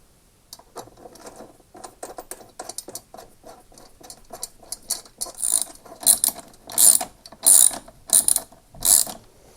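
A ratchet tool clicks steadily as it tightens the nut holding the blade on a Flymo Ultraglide lawn mower. Quiet, rapid pawl ticks build into louder, sharper clicking strokes near the end.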